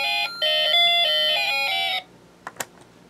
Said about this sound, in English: now we got kind of an ambulance siren effect coming out of the alarm IC at the same time